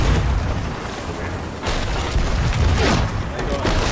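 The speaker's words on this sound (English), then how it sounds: "I'm shooting fire." Fire shots in a video game: deep booming blasts and rumbling bursts over a dense, continuous noisy mix, with voices talking over the action.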